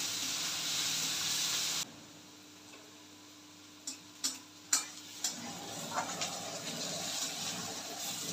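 Chopped onion hits hot oil in a pan for an Indian lentil sabzi, giving a loud steady sizzle that abruptly drops to a softer fry, followed by a run of sharp spoon-against-pan ticks from stirring.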